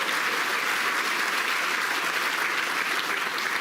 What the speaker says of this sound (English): The extra round of applause because look where he put the cue ball